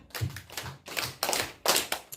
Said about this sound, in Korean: 박수 다섯 번 시작.